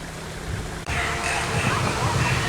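Waterfall at Mason City, Iowa, pouring down into a pond, a steady broadband rush of falling water that continues after a brief dropout, with faint voices mixed in.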